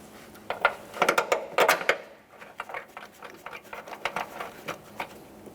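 Light, irregular metallic clicks and taps of a mounting bolt being threaded in by hand on an engine bracket during water pump replacement on a 2011-2020 Toyota Sienna 3.5L V6, close and fairly faint, in uneven bursts.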